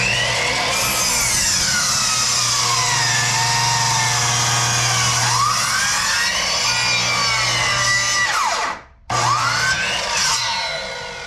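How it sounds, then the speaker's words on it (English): Old non-tilting chop saw cutting a 45-degree bevel through wood for a birdhouse, a loud continuous whining cut with a steady motor hum lasting several seconds, a brief drop near the end before the blade spins on. "we're going to cut a 45-degree with a chop saw"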